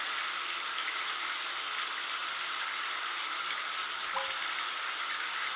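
Water poured into a household sink drain rushes as a steady, broad hiss that holds evenly the whole time, with only a brief faint clink partway through and no speech.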